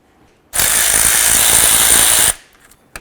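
A power tool backs out the bolts on a 1998-2011 Ford Ranger neutral safety switch in one loud, close whirring burst of about two seconds. A quiet moment with a small click follows.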